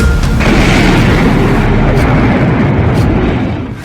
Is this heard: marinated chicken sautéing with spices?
no